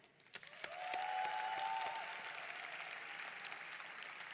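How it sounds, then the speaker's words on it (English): Audience applause fills an esports awards ceremony hall at the 2024 Esports World Cup in Kazakhstan, a steady, dense round of clapping that swells and then holds at a strong level for several seconds. "a round of applause for all of you"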